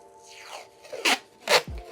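Tape is pulled and applied behind the center of a sublimation print for an all-over shirt, making short, close ripping strips of tape, two louder pulls near the end and a soft thump.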